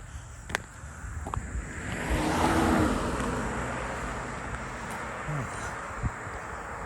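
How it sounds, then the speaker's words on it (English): A car approaching and passing on a road near a bridge, a rising broadband swell that peaks mid-clip and fades slowly, heard over light wind with someone speaking quietly. "I think I got a car coming."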